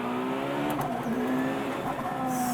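A Czinger 21C High Downforce hypercar engine roars steadily at high speed on a race track, a sustained loud drone with rising tonal whine, heard alone without talking.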